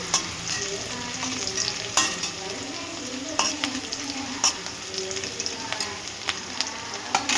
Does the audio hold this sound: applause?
no